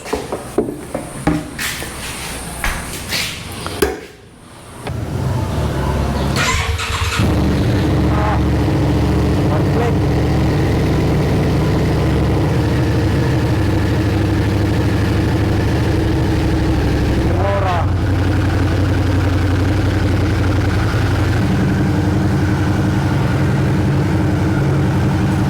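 Suzuki SV650 motorcycle left unused for a year, cranking with uneven bursts before catching and settling into a loud, steady idle close by.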